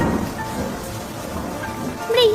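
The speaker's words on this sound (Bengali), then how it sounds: "রাত যত গভীর হতে থাকে, ঝড় বৃষ্টি তত বাড়তে থাকে।" Cartoon sound effect of heavy rain in a night storm, a steady dense hiss of downpour with a soft rumbling undertone running throughout, rising slightly louder near the end.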